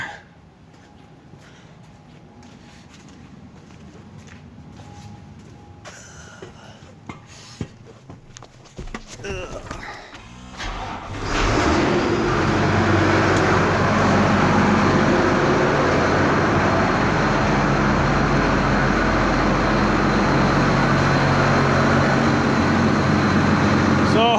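Vehicle engine being started, with faint rustling and movement first, then an abrupt catch into a loud, steady, close idle that continues to the end of the clip.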